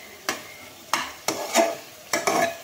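Carrot halwa stirred and fried in a pan, the spoon scraping in about six distinct strokes at an uneven pace, each a short close scrape over a faint background sizzle.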